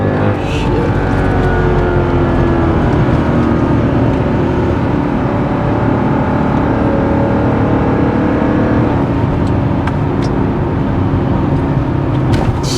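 A Mercedes W211 E55 fitted with performance upgrades accelerates hard from 20 mph, close to losing traction, its engine roaring in a loud, unbroken rising drone.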